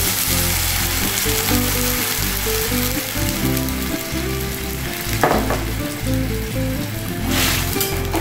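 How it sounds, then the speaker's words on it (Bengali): Frying potatoes for a Bengali potato chorchori sizzle and crackle steadily in a pan after water has been poured in, a close, continuous hiss with occasional stirring. "জল ঢেলে দিলাম।"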